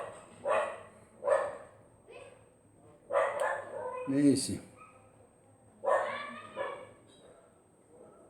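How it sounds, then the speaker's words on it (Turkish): A dog barks several times in separate loud bursts, with a person talking in between the barks. "Saldırıyor bu köpek."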